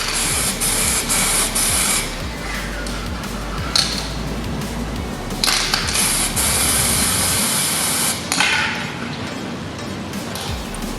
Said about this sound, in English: I would like to spray paint it black with some textile spray paint